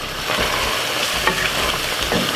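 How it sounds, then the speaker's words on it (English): Jamaican curry chicken with spinach being stirred in a pot, giving a steady close scraping and sizzling texture with a few brief clinks, no talking. "Give it a stir."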